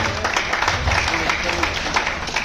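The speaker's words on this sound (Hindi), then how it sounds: "तालियों में कंजूसी ना करो" Dense, continuous applause fills a hall at a Hindi Journalism Day gathering honouring journalists. It is loud and sustained, with people talking underneath.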